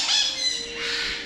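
Macaws squawking at a bird farm in Chachoengsao, Thailand: harsh, loud, continuous shrieking calls filling the clip, with several birds calling at once.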